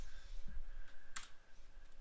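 Faint computer keyboard keys click a few times as a networking command is typed, one sharper tap standing out over a steady low background hum.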